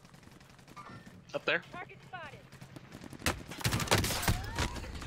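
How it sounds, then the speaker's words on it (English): Bursts of game gunfire crackle, including rapid strings of shots, while players talk excitedly over them. "Oh, I hear gunshots."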